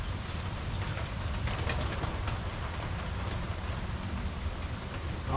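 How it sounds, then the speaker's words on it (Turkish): Pigeons cooing outdoors on a rainy day, soft low coos half buried in the steady hiss of falling rain on surfaces, with no voices. "burada güvercinleri seyredeyim"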